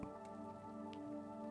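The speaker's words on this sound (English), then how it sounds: "It's got some rain in it too." A soft rain sound effect pattering steadily beneath sustained synth tones in a song, quiet and continuous throughout.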